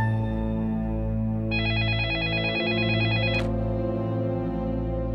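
A telephone rings inside a home, a steady electronic ringing tone of about two seconds rising over a continuous musical background, moderately loud and close.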